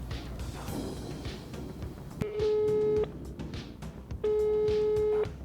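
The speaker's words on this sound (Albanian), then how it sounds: "Për të tretë po provojmë me thirrë Dardan Ramën" A telephone call to a company owner goes unanswered, giving two steady busy-signal tones about a second long each, clear over a noisy outdoor background with clattering.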